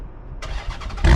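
Chrysler 300 SRT8 with an aftermarket exhaust, heard first as a faint low rumble, then a brief throaty burst that swells into a deep, loud idle toward the end, close by and with no talk.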